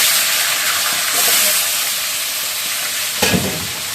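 A fish head fries in oil with bay leaf and fenugreek seeds, giving a loud, continuous close-up sizzle and hiss, with a brief stirring scrape near the end.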